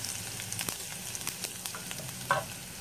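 Cumin, cloves, dried chillies, curry leaves, garlic and asafoetida sizzle in hot oil as tempering for Gujarati kadhi, a steady close crackle with scattered sharp pops and one brief louder burst.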